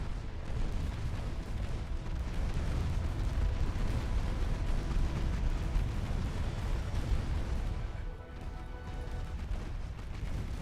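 Continuous heavy rumbling explosions from torpedoes in the naval battle game Ultimate Admiral Dreadnoughts, loud and dense booms rolling together for the whole stretch with a brief dip near the end.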